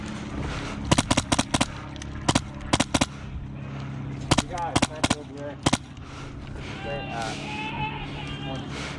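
Airsoft guns firing on an outdoor field, many sharp snapping shots in quick pairs and short bursts, fairly close, with people talking quietly between and after the volleys.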